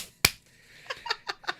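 Hands clapping: one sharp, loud clap, a short pause, then four quicker, softer claps in an uneven rhythm, close by in a quiet room.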